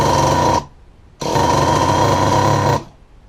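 Nitro engine of a Traxxas Jato RC truck idling with a loud, buzzing drone, cutting out briefly and then running again for a second stretch, close and without talk.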